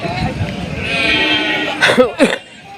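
Sheep at the Gudur sheep market bleat close by, with two loud wavering bleats near the end over a steady murmur of crowd and market noise.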